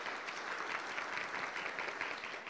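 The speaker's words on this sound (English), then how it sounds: "If you'd give yourselves a round of applause" A conference audience at the California Constitutional Convention Summit gives a sustained round of applause, steady and fairly distant, with no voices over it.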